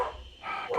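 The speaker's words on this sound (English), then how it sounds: "Goddamn dogs." Dogs bark nearby in a short, sharp burst of a couple of quick barks, standing alone without talk.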